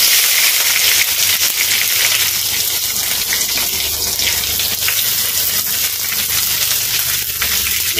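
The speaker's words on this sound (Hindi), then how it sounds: "मिर्चा डालने के बाद इसमें हम डालेंगे प्याज" Chopped onion tipped into a pan of chillies frying in oil, giving a steady, loud, close sizzle and hiss that runs unbroken from start to finish.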